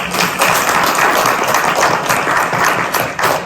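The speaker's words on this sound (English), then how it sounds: "Can we give one more round of applause" Sustained applause from an audience at an academic presentation, steady dense clapping throughout with no pauses, fairly loud and close.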